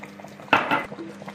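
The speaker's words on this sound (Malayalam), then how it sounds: "മറ്റൊന്ന് ഇളക്കി ഒന്ന് മിക്സ് ചെയ്യാം" A spoon clatters against a pot while green chicken curry, Hyderabadi-style hariyali chicken, is stirred; a short burst of scraping and clinking sits near and fairly loud, with quiet kitchen background on either side.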